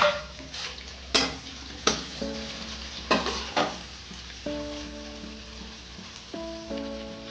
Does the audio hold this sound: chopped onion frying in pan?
yes